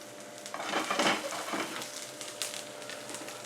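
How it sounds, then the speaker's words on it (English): Onions tipped into a hot pan for an Indian beef dopiaza curry give a soft sizzle and frying hiss. Stirring scrapes swell near the start, then the sizzling settles into a steady, fairly quiet background. "here I'm going to add the onions now"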